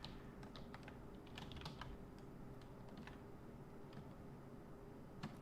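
Keys on a computer keyboard being typed in quiet, irregular bursts of soft clicks over a faint steady hum, with no talking.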